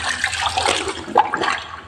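Water sloshing and splashing as laundry is soaked by hand in a basin, a short close burst of liquid movement with a brief louder splash midway.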